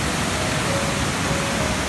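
The Tat Chanan Waterfall in Bueng Kan, where white water tumbles over rock, makes a steady, close, hissing roar that stays even and unbroken throughout.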